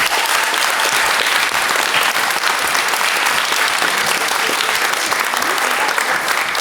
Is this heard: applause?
yes